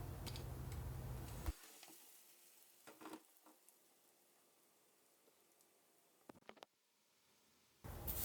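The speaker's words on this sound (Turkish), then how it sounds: "şöyle kontrollü bir şekilde kızartmaya devam edelim" Pan frying of stuffed pastries in oil with a steady sizzle that cuts out early, then quiet clinks and handling noises before a loud sizzle resumes at the end.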